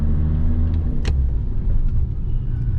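A Skoda Laura VRS driven on the road, its turbocharged engine a loud, steady low rumble from inside the car with a brief sharp click partway through.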